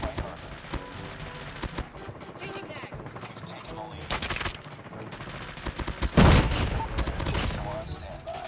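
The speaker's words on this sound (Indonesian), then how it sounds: "Jadi kita bisa nembak mereka dengan enak sekali gitu." Gunfire in a Call of Duty match, dense bursts of rapid shots mixed with game effects, with a louder heavy volley near the end and a voice talking over it.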